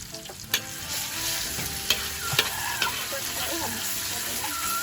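Curry paste of shallot, garlic, chili and shrimp paste stir-fried in hot oil, a steady close sizzle broken by a few sharp scrapes and clacks of the utensil against the pan.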